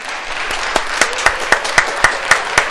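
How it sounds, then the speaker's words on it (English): A few people clap slowly and evenly indoors, about eight distinct claps spaced at a steady rhythm, close and fairly loud. "we're clapping in our room here"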